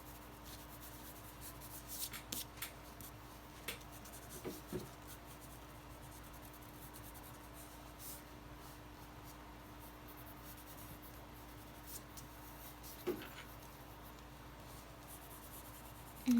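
A pencil drawing on paper at a drawing lesson, a faint steady scratching and rubbing with occasional light taps, close and soft in an otherwise quiet room.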